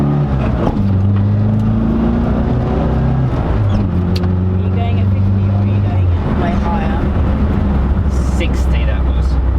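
Classic Mini engine revving hard on a speed run, heard from inside the car as a loud droning note that climbs in pitch through several gear changes, with brief drops between shifts.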